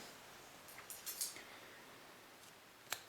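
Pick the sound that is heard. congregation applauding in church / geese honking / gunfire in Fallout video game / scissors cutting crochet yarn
scissors cutting crochet yarn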